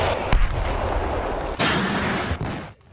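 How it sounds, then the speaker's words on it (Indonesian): Wartime battle sound effect of rattling gunfire and heavy booming blasts from repeatedly thrown grenades, loud and dense, with a sharp new blast partway through before it cuts out. "Desingan peluru meniupkan suasana, ditambah lemparan granat yang bertubi-tubi."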